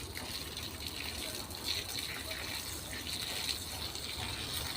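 Steady broadband rush of water spraying or gushing onto farm plants, continuous and fairly close, with no pauses and no voices.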